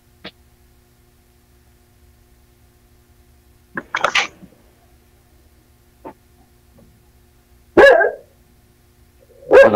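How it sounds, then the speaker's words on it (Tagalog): A dog barks in short, sharp bursts at scattered intervals, a few loud isolated barks separated by near silence. "Nagalit na aso mo dyan."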